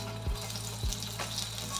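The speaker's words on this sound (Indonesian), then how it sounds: "saya goreng bawang irisnya dulu" Sliced onions fry in cooking oil in a pan while a simple Indonesian beef gulai is being cooked. The soft, steady sizzle is broken by a few light stirring knocks.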